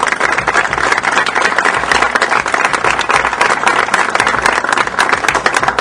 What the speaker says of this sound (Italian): noi facciamo un applauso a Peppino e a Lucetta stessa.